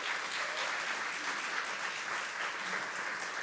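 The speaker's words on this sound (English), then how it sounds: "Give God a praise clap this morning." Church congregation giving a praise clap during a morning service: a steady wash of many hands clapping together, even and sustained for a few seconds, fairly soft and without talk.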